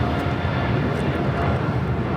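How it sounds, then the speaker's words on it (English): An EVA Air Boeing 777-300ER departs LAX for Taipei, its jet engines giving a steady broadband roar at a distance for a couple of seconds. "This is EVA Air Flight 5 taking off to Taipei on a 777-300ER."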